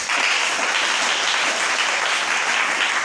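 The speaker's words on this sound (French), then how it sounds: "On acclame le Seigneur." A church congregation at an evangelical service breaks into sustained applause, a dense steady wash of clapping hands lasting the whole clip, with no talk.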